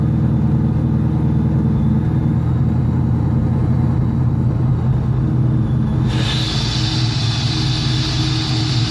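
An engine fitted with a Pro M EFI fuel injection system runs at a steady idle, a loud, even low rumble that carries on unbroken, with a brighter hiss joining in partway through.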